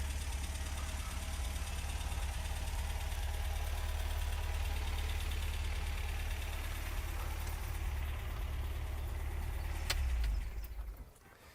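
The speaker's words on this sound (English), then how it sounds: "Maybe when I get to the driver's seat, I'll shut down that engine and save a few trees." A 1971 MG MGB engine idles in a steady low rumble, close and even, and is switched off near the end so the sound drops away.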